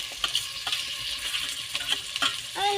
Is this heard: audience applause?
no